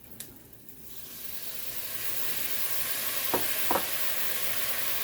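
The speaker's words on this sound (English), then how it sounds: "So I'm going to add Worcestershire sauce." Worcestershire sauce hits a hot cast iron pot during an outdoor pot roast, and a loud, steady sizzle swells and holds, with a couple of small scrapes over the hiss.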